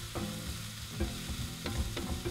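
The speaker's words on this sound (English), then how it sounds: "So we're just gonna pop that ginger in. And stir it in with those onions." Ginger stirred into onions frying in a pan for a broccoli and peanut stir-fry, a soft continuous sizzle with several sharp scrapes and clacks of the spatula at irregular intervals.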